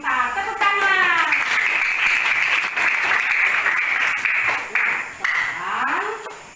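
Children in a classroom clap together in loud, sustained applause that lasts several seconds, with brief voices rising just before and just after the clapping.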